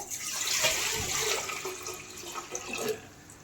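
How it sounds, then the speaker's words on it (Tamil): A vessel of water poured into a pot for Pongal, a splashing, gurgling pour lasting a few seconds at close range, rising and falling in bursts. "ஒரு சொம்பு தண்ணி எடுத்து ஃபஸ்ட்டு ஊற்றிக்கோங்க."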